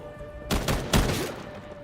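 Rifle shots crack in a video game, a brief burst of three or four close, loud reports in quick succession over low background hum, with no one talking.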